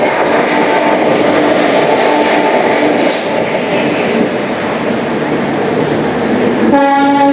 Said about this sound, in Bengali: আর ট্রেনটা প্রায় এখন ছাড়লোই ভুবনেশ্বর থেকে 10 মিনিট লেটে